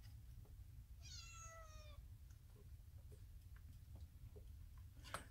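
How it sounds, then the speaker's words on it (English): A single drawn-out cat meow indoors, fairly faint and mid-distance, over a low steady hum in a workshop setting, followed by light scattered ticks and clicks. "You guys are going to hear my cats."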